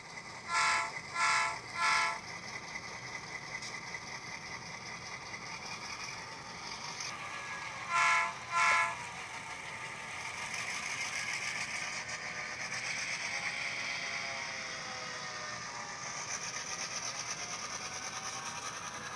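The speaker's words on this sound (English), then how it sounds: "we'll back the locomotive up and we'll run it the length of the test track" Bachmann N-scale SD9 model locomotive running along a test track, its onboard sound sounding short horn-like toots in a quick triple burst and then a double, followed by a steady whirring motor drone that swells and settles.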